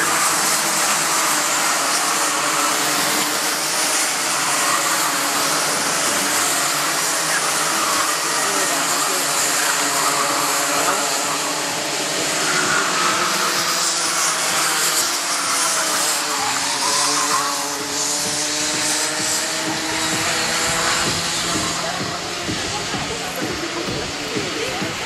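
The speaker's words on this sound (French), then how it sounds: "J'entends son moteur et seulement son." A racing engine at a round of the French championship in Lavelanet roars loudly and continuously with rising and falling revs, while a commentator talks over it.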